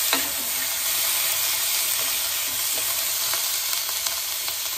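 Two chopped raw tomatoes fry and are stirred in a hot pan, making a loud continuous sizzle with light scraping strokes through the hiss and no voices.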